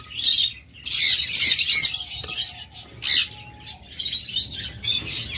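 Several caged pet birds squawk and chirp loudly in close, overlapping bursts, a busy cage-room chatter with brief harsh calls throughout and no talking.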